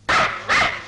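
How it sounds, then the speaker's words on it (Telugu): A house dog barks twice in quick succession, close and loud, with a short gap between the two sharp barks and no other sounds around them. "నీ మాట నా ఇంటి కుక్కకు కూడా ఇష్టం లేదురా, అందుకే అరుస్తుంది"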